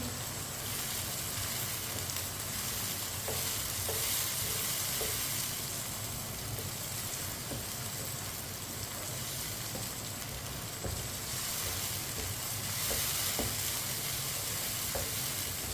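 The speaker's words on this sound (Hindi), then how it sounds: "ये देखिए वाइट चने डाल लेंगे, मिक्स कर लेंगे।" Boiled white chickpeas stirred into a sizzling rice mixture in a pan, a steady close frying hiss with faint scraping clicks of the spoon, no voices.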